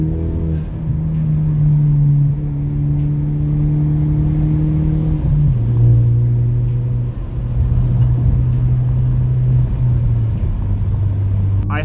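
An S550 Ford Mustang drives onto a highway with a steady low engine drone. The pitch holds, then drops slightly mid-way as it shifts, loud and continuous inside the car with no talk.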